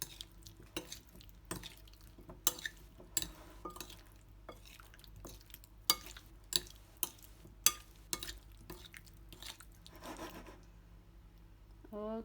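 Potato salad dressed with olive oil being stirred and tossed in a bowl: irregular soft clicks, scrapes and wet squelches of utensil against dish, close and fairly quiet, with a low steady room hum underneath.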